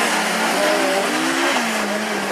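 A Citroën C4 rallycross car and rivals launch off the start, engines revving hard with rising, stepping pitch in a loud, continuous roar.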